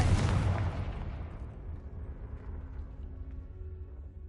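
A Confringo spell blast in Hogwarts Legacy hits with a loud, low boom, then a rumbling tail slowly fades over several seconds with no voices.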